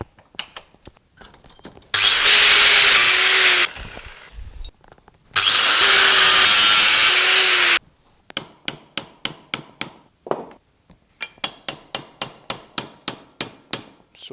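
A bent metal tube is cut off before welding in a workshop: two long, loud, harsh bursts of a power cutting tool, each a couple of seconds, followed by a run of sharp, evenly spaced metallic hammer-like knocks up close.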